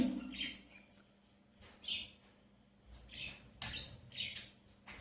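A red-eye female pet bird calls in several short, faint chirps spaced irregularly, heard alone in a quiet room.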